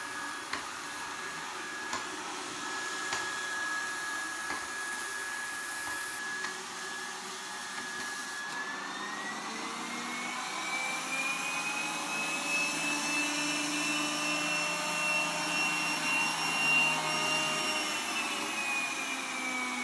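A Yeedi Mop Station robot vacuum cleaner runs steadily with a continuous motor whine and airflow hiss, its pitch rising as suction power ramps up partway through, close and alone without talk.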